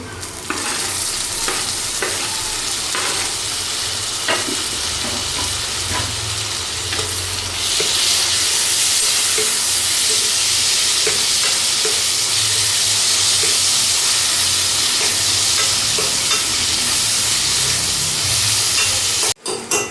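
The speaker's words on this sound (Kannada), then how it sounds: "ಟೊಮೆಟೊ ಹಾಕ್ಕೊಂಡು ಅದನ್ನು ಚೆನ್ನಾಗಿ ಫ್ರೈ ಮಾಡ್ಕೋಬೇಕು" Chopped tomatoes fry loudly in a pan for paneer bhurji alongside onions, a dense continuous sizzle with frequent spoon scrapes early on, swelling into a stronger hiss halfway through and ending abruptly.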